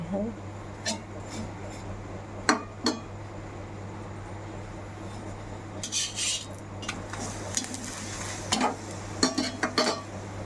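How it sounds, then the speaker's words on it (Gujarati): Food dry-roasting in a pan over a medium gas flame, with a steady low hiss, intermittent utensil scrapes and clinks against the pan, and a few louder stirring bursts near the end. "આ રીતે આ સાઈડે એ શેકાઈ જાય પછી અંદર આપણે તેલ નાખીશું."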